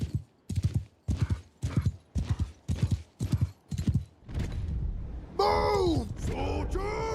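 Horses in the medieval combat game Bannerlord: about eight rhythmic clip-clop hoofbeats at a steady trot, followed by a loud neigh and whinny, close and clear.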